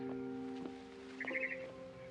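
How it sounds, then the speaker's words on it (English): Short bright chirps from a barn swallow in the video game What Remains of Edith Finch, a brief cluster of high calls over a faint steady tonal hum, fairly close and moderately quiet. "Then I heard chirping outside my window."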